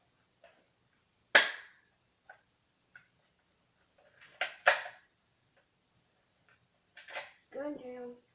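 Zooma toy gun firing, a few sharp clicks and snaps spaced apart, close and fairly quiet, with a brief voice near the end.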